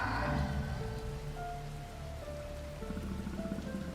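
Steady rain pours down in the video game Rain, a dense continuous hiss of drops on surfaces with soft tonal music drifting underneath, heard alone without voices.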